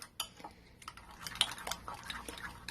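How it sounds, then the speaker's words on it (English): A utensil stirring crushed peach into mayonnaise in a bowl for a grilled peach burger, making soft close clinks and scrapes against the dish in an irregular rhythm. "I'm going to put it with this 1/4 cup of mayonnaise. And just stir it up together."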